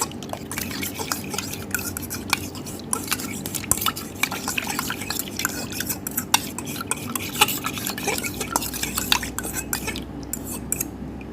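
An egg and MSG mixture is poured into five liters of plain water and stirred, giving steady clinking and scraping of a utensil against the container with small liquid splashes throughout.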